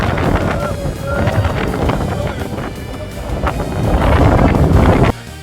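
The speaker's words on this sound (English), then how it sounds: "The wind continued to get bitter and it was really affecting what was happening on the pitch." A bitter wind gusts across a non-league football pitch, loud and blustery with steady rumbling buffeting on the microphone that builds toward the end and then cuts off abruptly.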